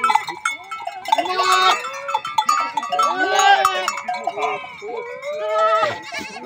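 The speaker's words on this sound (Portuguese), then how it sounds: "Seus bodes perturbam demais" Several goats bleat loudly and repeatedly in the caatinga scrubland, overlapping wavering cries up close, with a clanking bell sound mixed in.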